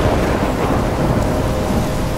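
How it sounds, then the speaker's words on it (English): Thunderstorm in the video game Life Is Strange: a loud, steady roar of heavy rain and rumbling thunder fills the scene continuously, with no voices over it. "I'm trapped in a storm?"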